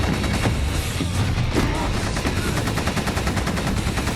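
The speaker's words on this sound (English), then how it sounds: "the Marines shoot at him while he is still mutating" Marines fire on a mutating creature in the Resident Evil Degeneration film, a dense, loud roll of rapid automatic gunfire with steady bursts running the whole time under a noisy battle mix.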